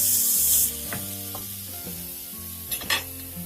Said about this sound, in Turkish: Patlıcanlarımızı da çok güzel kızardılar.